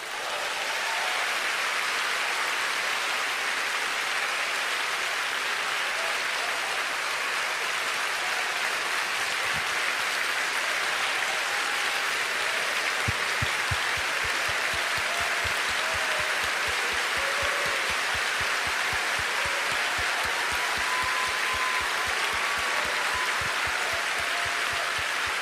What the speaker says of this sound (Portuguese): É para aplaudir de pé, igreja.